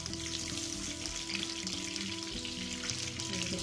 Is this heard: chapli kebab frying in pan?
yes